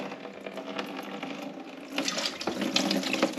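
Oil and water trickle and splash out of a tipped-up Mazda 13B rotary engine, a steady liquid pour that grows louder and more spattery near the end.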